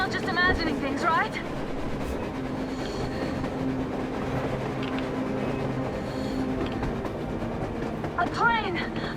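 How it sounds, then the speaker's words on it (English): A train rolls past on the surface in the video game Metro Exodus, a steady rumbling rail noise with faint clatter running through the whole stretch, partly under voices. "A train! A damn train on the surface!"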